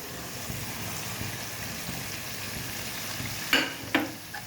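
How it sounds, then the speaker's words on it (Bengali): Spices, cardamom, turmeric, chilli, green chillies, garlic, coriander and cumin, sautéing in a pan for an egg and potato dish, a steady low sizzle with two sharp scraping stirs near the end. "ভালোভাবে কষিয়ে নেব"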